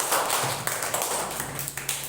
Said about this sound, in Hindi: ताली बजाइए जोर से, जोर से ताली बजाइए